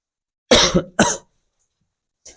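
Two sharp, close coughs in quick succession, followed by silence and a faint third cough at the very end.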